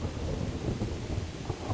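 Rain and rolling thunder from the medieval video game Kingdom Come, a steady, close wash of rainfall under low continuous rumbling that swells and eases across the short stretch, with no voices.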